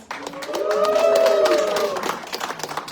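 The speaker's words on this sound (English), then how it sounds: "Let's give a very loud cheer to encourage our models" A fashion show audience at a Philippine consulate pop-up art exhibit cheers loudly for the models. Voices swell together in a sustained roar over scattered claps, then taper off.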